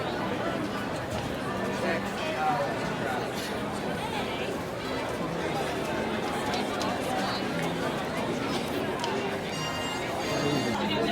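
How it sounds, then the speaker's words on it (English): A huge opening-day crowd gathered before dawn at Star Wars Galaxy's Edge in Disney's Hollywood Studios, a dense steady hubbub of chatter and footsteps surrounding the listener, with a nearby voice talking over it. "Guys, this crowd is insane."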